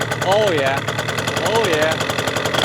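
A Yamaha Aerox two-stroke scooter engine runs steadily with a raspy, buzzing drone and two brief rising revs, while someone talks excitedly over it.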